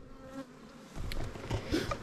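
Honeybees buzz close by while being collected to populate nucleus hives, a steady droning hum that swells and dips over a couple of seconds.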